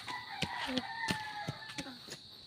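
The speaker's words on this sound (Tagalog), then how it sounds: "meron po kaming naglilimlim na inahin" A brooding hen clucks repeatedly in short, low rhythmic bursts, close by, with chicken calls and faint background chirping.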